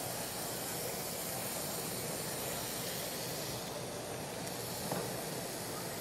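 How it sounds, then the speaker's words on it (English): A quiet, steady sizzling hiss of chicken frying in a non-stick skillet continues without a break, with no talking. "You want the sizzle."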